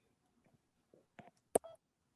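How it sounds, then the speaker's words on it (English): A few short button tones from a mobile phone being set to mute during a bilingual poetry and prose reading at a Russian American cultural center. The beeps come as quick, separate chirps close to the microphone, with no talking over them. "my phone emits sounds like so many phones"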